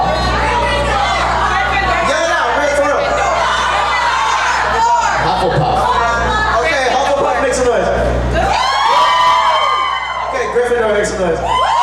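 An indoor panel audience at a festive fan convention calls out answers all at once, a loud overlapping jumble of shouting voices and whoops from many people.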